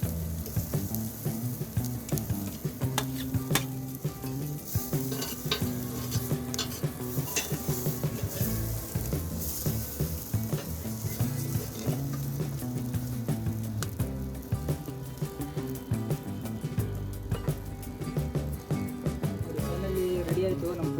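Hariyali chicken in green masala cooking on a smoky wood-fired stove on a terrace, with steady sizzling and frying plus occasional clinks of utensils and stirring against the pan, continuous and close throughout.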